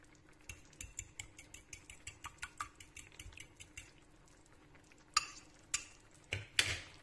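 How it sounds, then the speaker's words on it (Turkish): Three eggs with salt whisked lightly in a bowl, a quick run of soft, regular utensil taps against the side, close but quiet, ending in a few louder clinks. "Şöyle bir hafif çırpalım."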